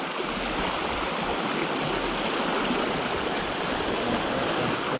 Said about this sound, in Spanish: Ahí hay una cascada